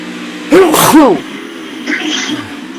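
A single loud, close sneeze bursts out in two quick voiced parts, followed by quieter background noise from a live SCRL Xfinity Series race broadcast at Kansas Speedway.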